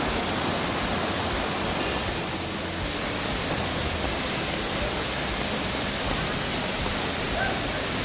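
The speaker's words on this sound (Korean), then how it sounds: "비도 내리고 폭포도 내리고" Daehye waterfall on Geumosan mountain, swollen with heavy flow in the rain, pours in a dense, unbroken broadband roar that stays steady and close throughout.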